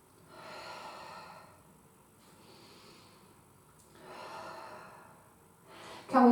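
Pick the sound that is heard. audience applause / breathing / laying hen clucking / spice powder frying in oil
breathing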